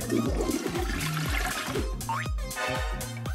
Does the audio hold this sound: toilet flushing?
yes